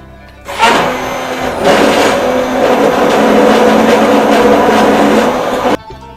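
An electric blender whirs loudly and steadily as it mixes yogurt with hot broth, starting abruptly after half a second and running at a constant roar for about five seconds before cutting off.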